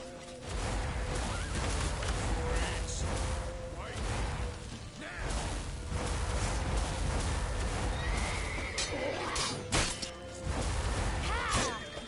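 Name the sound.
horse neighing in the video game The Witcher 3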